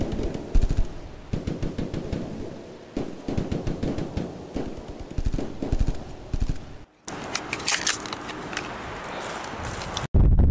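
Video game machine gun fire in Distant Scream erupts in rapid, loud bursts and sustained rattling volleys, with a brief silent gap before a harsher, denser stretch of shooting.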